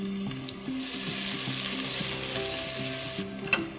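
Cumin seed, chopped ginger, garlic and onions fry steadily in hot ghee, a dense continuous sizzle with faint clicks of stirring, close and fairly loud throughout.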